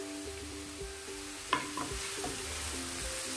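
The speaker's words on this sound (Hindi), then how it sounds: "और इसको अच्छी तरह से कलर चेंज होने तक इसको भूनेंगे।" Onion, ginger and garlic frying for sarson ka saag, a soft continuous sizzle with one sharp clink of a stirring spoon partway through, quiet and steady with no voices.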